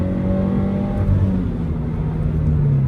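A Toyota GR86's flat-four boxer engine revs hard toward 6000 rpm, heard from inside the car: a loud, rising throaty drone with a steady climbing pitch and no voices.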